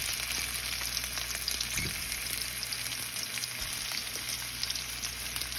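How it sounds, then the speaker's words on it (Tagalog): Corned beef fries in a pan, a continuous hiss and crackle of sizzling fat with small pops, a brief louder scrape or stir near the middle, steady and close with no talking. "lagay ko na yung corned beef natin"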